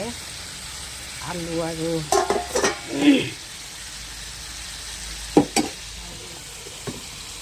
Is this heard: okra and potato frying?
yes